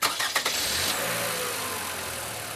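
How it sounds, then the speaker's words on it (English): A car engine cranks with a few quick uneven bursts, catches, and settles into a steady loud idle hum, close and alone without talk. "All right, start the engine."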